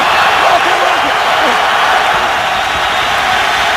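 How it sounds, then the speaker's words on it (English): A deafening, steady roar from the crowd fills an NFL stadium during the Chargers at Raiders game, with a commentator's voice running over it. "now the crowd noise deafening in this part of the field"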